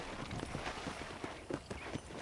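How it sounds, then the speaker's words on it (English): Horse hooves clip-clop in a steady walking rhythm in the video game Red Dead Redemption, close and fairly loud over a dense outdoor ambience of wind and rustling. "I picked out a fine horse for you."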